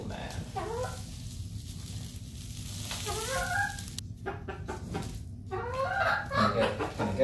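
Backyard chickens cluck softly in short, scattered bursts under a voice, with a steady low background hum and some nearby rustling.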